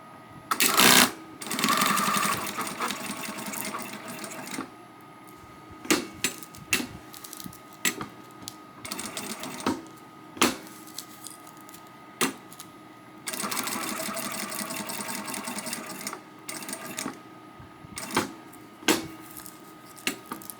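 An embroidery sewing machine stitches a frog plushie dog toy in the hoop, giving loud close bursts of rapid mechanical needle chatter separated by pauses with clicks and thumps as the fabric is handled.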